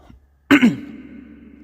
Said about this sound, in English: look how noisy is my cough here